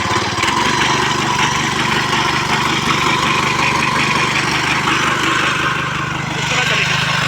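A power tiller with a back rotary rotavator runs steadily at high throttle in first gear while breaking up soil, its engine a continuous, loud, close drone from start to finish.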